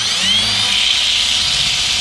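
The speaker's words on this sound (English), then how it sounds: "let's take our sandpaper and our drill and see how we do" A power drill spins sandpaper against a wheel, giving a steady, close, loud whirring grind with a high abrasive hiss that runs unbroken the whole time, with no voices.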